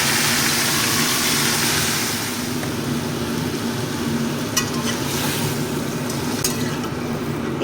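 Chicken braising in hot oil in a pan, giving a steady, loud sizzle with a constant low hum beneath and a few sharper crackles near the end.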